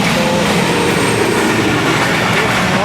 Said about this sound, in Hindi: हवादार स्पीड के साथ गुजर रही है अवाम एक्सप्रेस।